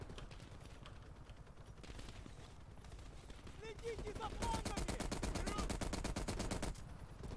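Rapid automatic gunfire in the Call of Duty: Cold War campaign, a dense sustained burst of shots for a few seconds after quieter game ambience, with a player's voice talking.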